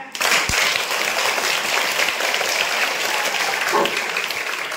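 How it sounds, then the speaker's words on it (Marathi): A crowd at a student felicitation ceremony claps loudly and continuously, a dense steady wash of applause filling the whole stretch without talk. "जोरात वाजवा टाळ्या."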